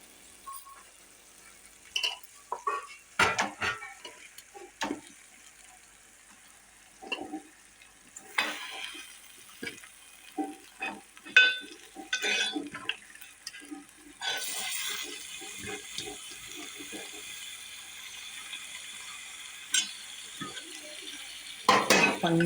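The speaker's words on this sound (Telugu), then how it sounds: "కొంచెంగా మసాలా పట్టేటట్టు కలుపుదాం." Fish pieces stirred into a simmering masala curry in a pan for a restaurant-style fish curry, with scraping spoon strokes, clinks and soft sizzling in irregular bursts throughout, close and moderately loud.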